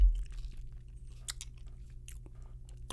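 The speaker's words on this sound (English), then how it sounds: "I need to chew more of this cough drop" A cough drop is crunched and chewed close to the mouth, giving a few sharp bites and smaller crackles over a low steady hum.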